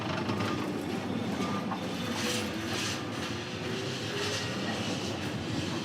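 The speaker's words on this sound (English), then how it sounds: "this tram is now waiting for another tram to pass." Historic Lisbon tram 28, an old carriage, passing along a narrow, steep street where tracks overlap: a steady rumbling roll with faint squeals and rattles, continuous and fairly close, no talk.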